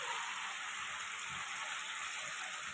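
Pabda fish with spices frying in hot oil gives a quiet, steady sizzle and crackle, continuous and even, with no voices over it.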